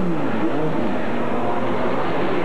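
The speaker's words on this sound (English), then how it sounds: "They fired the engine, but he cannot force the engine to come into gear." Trans Am race car engine at a 1988 vintage race at Niagara Falls, running and revving as the driver struggles with the gearbox, a loud continuous rough mechanical roar close by without talk.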